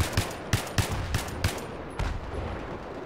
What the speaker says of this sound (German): Da hinten schießt's